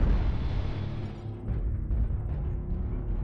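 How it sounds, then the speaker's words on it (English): Incoming missile strikes in the mech combat game Mechwarrior Online land as a low, rumbling burst of explosions that fades briefly and then swells again with softer thuds, moderately quiet and with no voices. "Warning, incoming missile."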